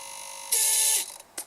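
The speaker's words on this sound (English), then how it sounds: "and the servo moves" Small servo motor in water rocket launch electronics moving with a short, close whirring buzz lasting about half a second, followed by faint ticks.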